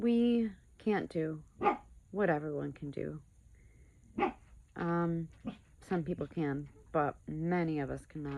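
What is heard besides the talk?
dog barking and whimpering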